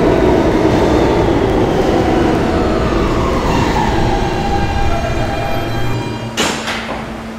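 R160B subway train on the D line rumbling steadily at close range, with a loud continuous roar and rattle that eases toward the end, followed by a brief sharp hiss like doors or brakes.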